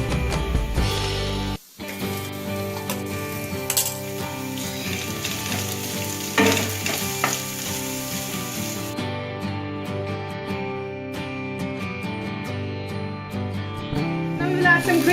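Onions sauté in a pan with chopped ginger and garlic, giving a steady sizzling hiss with occasional stirring, under background music.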